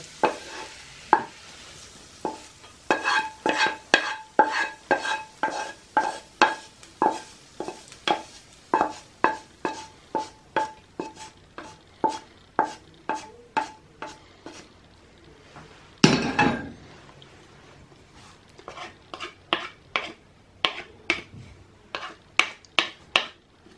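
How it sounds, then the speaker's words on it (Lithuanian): A fish patty mixture with onions and carrots is mixed hard in a bowl, a long run of regular clacking strokes, close and even, with one brief, rougher scrape midway. "Dabar labai gerai išmaišom."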